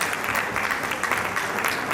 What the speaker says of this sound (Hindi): तो जोरदार तालियां पवन खंडेलवाल जी के लिए